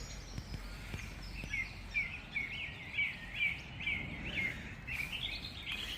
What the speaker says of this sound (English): the bird song you can hear yourself